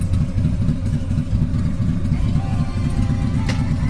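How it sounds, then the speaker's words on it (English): A loud, rumbling motorcycle engine drones steadily nearby, a low throbbing roar that continues without break throughout. "That's not the Tesla. That's a motorcycle."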